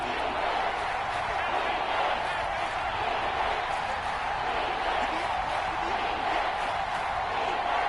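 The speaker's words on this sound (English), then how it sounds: "the crowd getting into it as we come up on a big 3rd down" A stadium crowd in a PS4 American football video game roars steadily through a big third-down play, a dense, continuous wash of cheering noise that holds level without breaks or distinct claps.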